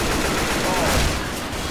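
Continuous gunfire rattles in Left 4 Dead Versus mode, a dense, loud wash of shots with no clear gaps, held steady throughout.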